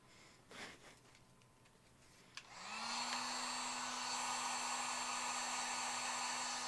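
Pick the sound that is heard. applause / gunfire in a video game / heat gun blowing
heat gun blowing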